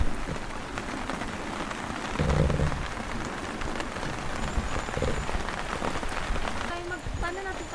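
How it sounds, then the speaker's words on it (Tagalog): Steady rain patters on a surface nearby at a farm campsite in the evening, a dense, continuous hiss with a few louder drips and faint background sounds. "Umuulan pa rin."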